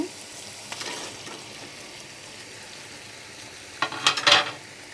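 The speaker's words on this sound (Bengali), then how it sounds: "এখন আমি মিষ্টি কুমড়ো ভেজে রাখা পিসগুলো দিয়ে দিচ্ছি।" Fried sweet pumpkin pieces added to a pan of spices, a faint low sizzle with a few scrapes early on and a cluster of louder stirring clatters near the end.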